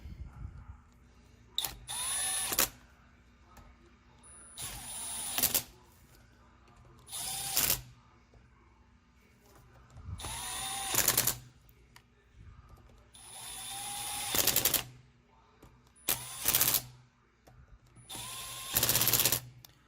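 Power tool driving and torquing transmission screws during a Transgo shift kit install on a RAM R/T, seven short loud whirring bursts separated by pauses, close up and without talk.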